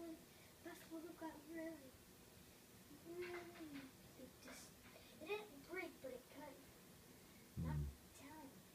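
A young girl imitates a cat in her bedroom, giving a series of short meowing vocal sounds with pauses between them and a louder burst near the end.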